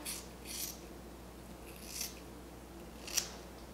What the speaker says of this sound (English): I'm just gonna cut the ends.